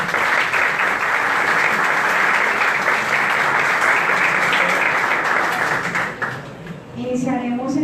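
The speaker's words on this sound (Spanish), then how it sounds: "Démosle un fuerte aplauso a nuestros invitados en la tarde de hoy" An audience at a lecture on marine ecosystem economics and biodiversity gives guest speakers a long, dense round of applause that fades out near the end as a voice begins talking.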